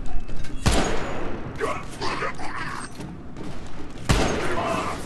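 Gunfire in The Bureau: XCOM Declassified, two sharp loud shots standing out from a busy game soundtrack with someone talking in between.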